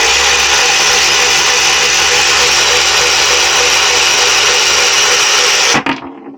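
A 49cc Razor MX350 dirt bike engine runs at a steady, loud buzzing whine close by for nearly six seconds, then cuts off abruptly into quiet clatter.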